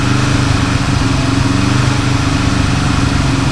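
A Honda CB450 K5 motorcycle engine runs at raised, steady revs around 2500 RPM, a close, loud, even throb holding constant without pause.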